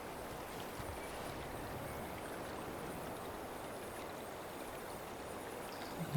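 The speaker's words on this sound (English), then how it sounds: "It's just a creek." In the hunting game Way of the Hunter 2, a creek flows in a soft, unbroken rush of water, fairly quiet and even throughout, with no voices over it.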